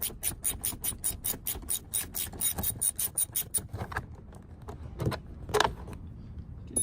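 A Torx 30 driver backs a screw out of a 2005-09 Ford Mustang door panel, making a quick run of evenly spaced ratcheting clicks that gives way to a few sparser, louder clunks and handling noises.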